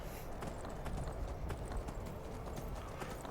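Horse hooves clip-clop steadily on the ground in the video game Skyrim, a repeated rhythmic clatter heard close over a windy, noisy backdrop, with no voices.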